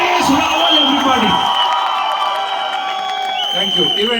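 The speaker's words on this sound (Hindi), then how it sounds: "छत उड़ा दो तालियों से" A large audience at a Delhi film event cheers, whoops and claps loudly and continuously, a dense wall of crowd noise with shouting voices mixed in.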